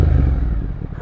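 A 2023 Triumph Speed Twin motorcycle engine idles and rumbles close by in a loud, steady, low burst lasting about a second.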